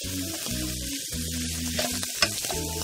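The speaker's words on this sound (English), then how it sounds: "Now you're going to just let that cook just until you can start smelling that garlic." Garlic frying in a pan for beef stroganoff, a steady close sizzle with soft stirring scrapes and occasional crackles, continuous and alone without talk.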